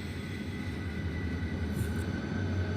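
A K5L horn on a P42 locomotive in a railroad video game sounds a steady, sustained chord over a low rolling rumble for the whole stretch, with no voices.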